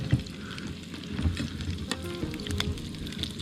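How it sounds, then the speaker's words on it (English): Fish sizzles steadily in a pan of hot oil with chili and garlic, a close, constant crackle with scattered pops and no talking. "I'm just going to lay this over the oil, over the sizzling pan of chili and garlic and everything good."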